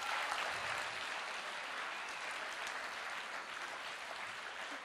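A big round of applause for a teacher at a school closing-day event, steady dense clapping from a crowd filling the hall throughout, with no pauses.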